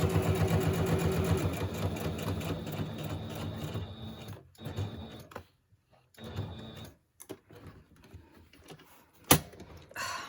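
A sewing machine stitches a fabric tag in fast rhythmic bursts that stop and start, with short pauses and a few handling clicks between runs.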